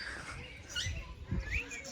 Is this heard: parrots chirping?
yes